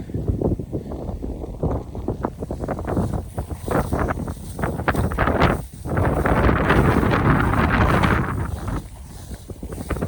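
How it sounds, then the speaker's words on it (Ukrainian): Strong wind buffeting the microphone in loud, rough gusts, with rumbling surges and brief lulls, close and constant throughout. "Дивіться, який вітер."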